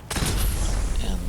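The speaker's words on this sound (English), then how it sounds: "Piper got near an explosion." Explosion in a video game, a sudden loud boom that bursts in and then rolls on as a sustained rumble with crackling debris, heard close and alone.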